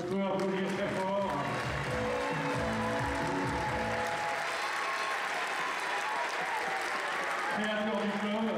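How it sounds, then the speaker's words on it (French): Sustained applause from the audience at a mixed-team foil fencing club event in Melun, steady and dense for the whole stretch, with voices talking over the clapping at the start and again at the end. "On peut applaudir très fort."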